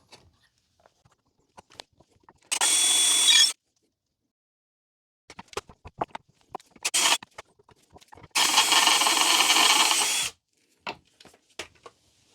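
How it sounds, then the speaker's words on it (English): A power drill whirs in two bursts, one short and one longer, drilling through a Jaguar XK8 front strut mount, separated by clattering and tapping of material and tools. "if you just drill through the top, the rest of it would just fall out"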